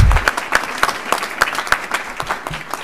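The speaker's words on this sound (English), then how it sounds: "give yourselves a round of applause" A small group at a school board meeting applauds, with crisp, scattered claps for a few seconds.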